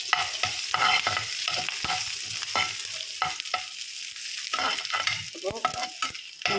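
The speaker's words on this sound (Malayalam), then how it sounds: "കടുകെല്ലാം പൊട്ടി വന്നിട്ടുണ്ട് കുറച്ച് വേപ്പിലയിൽ ഇട്ട് കൊടുക്കാം" Hot oil with popped mustard seeds sizzles steadily as curry leaves drop in, with crackling pops and scraping stirs punctuating the hiss; no voices.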